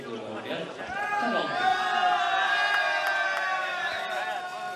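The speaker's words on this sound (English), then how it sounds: "As I'm sure Alex Longarella will have something to cheer about, and they do indeed" Crowd cheering at a European Talent Cup motorcycle race at the Magny-Cours circuit, a sustained roar with whoops rising and holding steady, with a commentator talking over it.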